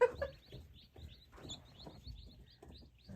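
Baby silkie chicks cheep steadily under a warm brooder, many thin high peeps repeating in quick, overlapping bursts at a soft, close level with faint rustling beneath.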